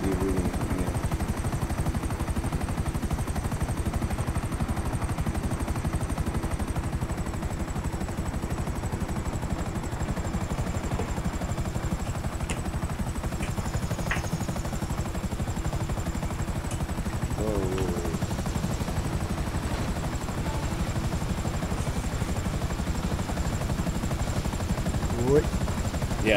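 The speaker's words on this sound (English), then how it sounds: "I'm gonna request my helicopter to get out." A helicopter in GTA 5 Online, its rotor drone and engine whine running steadily and loudly the whole time, with faint game effects mixed in.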